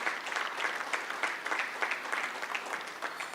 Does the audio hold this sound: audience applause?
yes